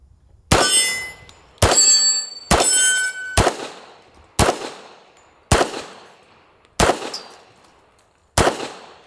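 A .45 ACP 1911 pistol fired eight times at a slow, steady pace, each loud sharp crack ringing out with a metallic clang and decaying before the next shot.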